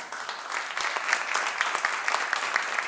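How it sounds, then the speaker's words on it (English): Audience applause at a garage gala fundraising auction, a steady wash of many hands clapping at moderate loudness, with a few sharper individual claps standing out and a faint voice underneath. "Give them a round of applause."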